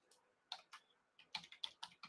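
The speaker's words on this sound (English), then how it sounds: "I'm typing my email." Quiet, close typing on a computer keyboard as an email address is entered, sparse clicks at first and then a quicker run of key presses, with no voices.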